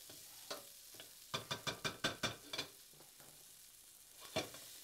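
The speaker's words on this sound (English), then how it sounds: "I'm going to give that just a quick stir and keep it moving." Tomatoes sizzle with minced fresh garlic and olive oil in a pan as a utensil stirs them, a quick run of sharp scraping strokes over a faint steady fry, close and without talk.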